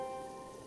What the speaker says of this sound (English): Silly Tungle can't climb rocks in the rain